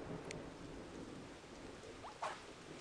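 Rain in the BattleBlock Theatre video game, a steady broadband hiss running throughout with a brief louder burst near the end, heard alone without talk.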